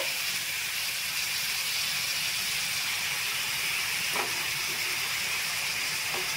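Taro leaves cooking with coconut, chickpeas and peanuts during a festival offering of food, giving a constant, even steam-like hiss with faint clicks. The hiss holds steady throughout, with no voices over it.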